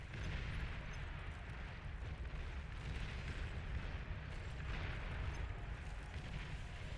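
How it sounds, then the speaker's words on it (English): A commander unit blowing up in the strategy game Beyond All Reason: a dense, sustained roar of rumbling explosions, loud and continuous from start to finish, with no voices. "Enemy commander destroyed."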